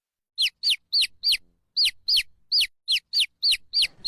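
Chickens that dig up garden flowers give about a dozen sharp, high calls in a quick, fairly regular run, close and alone with no talk.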